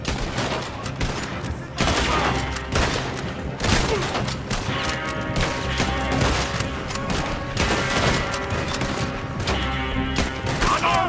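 Rapid gunfire rattles through a Red Dead Redemption II shootout, bursts of shots crackling one after another over continuous game music and commotion, loud and close.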